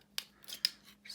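Scissors snip plastic channel in three or four quick, crisp cuts, close and fairly quiet, with short pauses between the snips and no talking.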